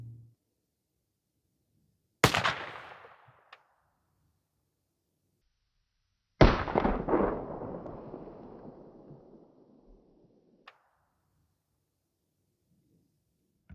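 Mossberg shotgun firing Sterling .410 slugs at water jugs outdoors, two loud sharp blasts a few seconds apart, each trailing off in a long rolling echo, with quiet between.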